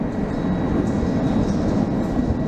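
A London Underground Victoria line train rumbles steadily as it approaches a northbound platform, a dense, loud, continuous roar of wheels and motors with no voices.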